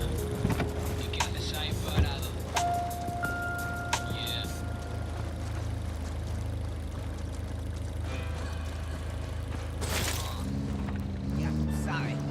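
A car driven in the video game Ghost Recon Wildlands, a steady low engine drone running throughout, with brief mechanical clicks, tones and a swell of noise near the end, while people talk over it.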